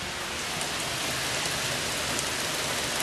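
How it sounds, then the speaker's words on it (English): Heavy rain pours down steadily, a dense hiss of drops drumming on surfaces with no pauses and no voices. "Fucking pouring down rain."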